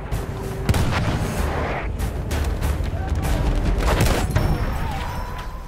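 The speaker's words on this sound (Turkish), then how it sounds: "Makinalı tüfek!" Heavy gunfire and booming blasts in Battlefield 1, loud repeated shots in bursts with a dense rumbling battlefield background.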